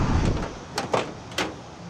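Door of a 1964 Dodge D100 pickup with a refrigerator-style handle: a few sharp metallic latch clicks and clunks, close and moderately loud, over low rumbling background noise.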